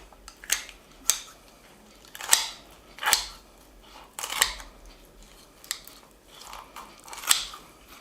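Sturdy kitchen scissors crunch through the spine of a raw chicken being spatchcocked for a kamado grill, giving about eight sharp, close snips spaced unevenly with brief pauses between cuts.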